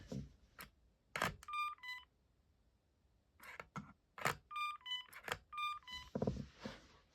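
A Binatone Icarus 2100 single cordless telephone rings with two bursts of electronic tones, quick beeping trills separated by clicks and a pause, close and fairly quiet.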